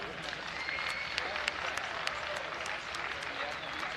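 Stadium crowd applauding at a professional ultimate frisbee game, a steady wash of many distant hands clapping with occasional sharper claps standing out, sustained throughout.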